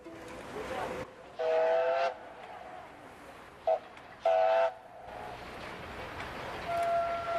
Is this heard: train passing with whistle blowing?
yes